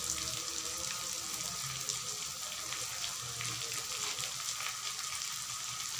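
Chicken sizzles steadily in a hot pan as turmeric powder goes in, a dense continuous hiss and crackle of frying oil with no pauses.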